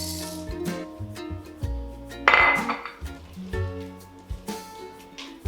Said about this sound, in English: we can fold through the remaining 1/2 cup of dark chocolate chips